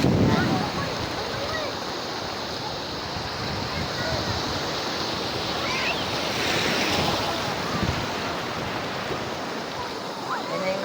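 Ocean surf at Pandan Beach in Real, Quezon, where a river meets the sea, rolls in as a steady broadband wash with wind buffeting the microphone, one wave swelling and breaking near the middle.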